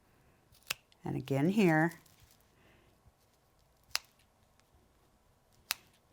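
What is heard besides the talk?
scissors cutting fabric corners of apron hot pads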